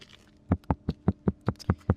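Eight quick, dull knocks on a Jaguar F-Pace SVR door panel fitted with acoustic deadening, evenly paced and close up, sounding muffled and deadened with little ring.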